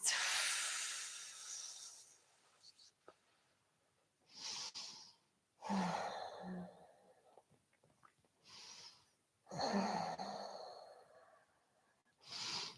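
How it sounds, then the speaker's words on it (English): Slow, deep breaths during an evening yoga class: several long inhales and exhales close to the microphone, separated by quiet pauses, with no talking. "Taking deep breaths."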